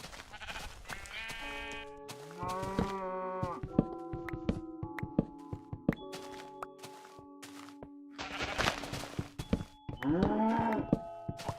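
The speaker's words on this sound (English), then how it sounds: "Did they actually make cows quieter, or are they just as loud?" Cows in a video game, a series of loud, close, drawn-out moos and bleating calls separated by short gaps, with light thunks and tonal game sounds between them and no talking.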